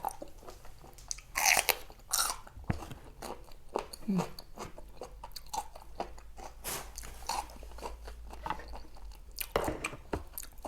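Fresh, crunchy squid sashimi dipped in spicy seafood sauce is bitten and chewed up close. Sharp crunches come in irregular bursts, with quiet moments of chewing between them and brief murmurs of talk.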